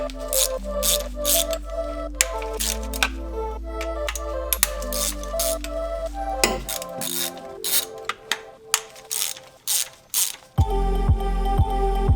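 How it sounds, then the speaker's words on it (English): A hand ratchet works the Allen bolts around the perimeter of an S4 valve cover: quick, close metallic clicking in repeated bursts of strokes, with short pauses and a few louder knocks between bolts. "So now we're just going to remove the valve cover as well as the spark plug boots. Just a few Allen bolts around the perimeter."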